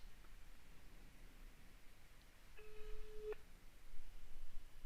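A phone call ringing through to a voice bot number, heard as a single short faint electronic tone over a low hiss.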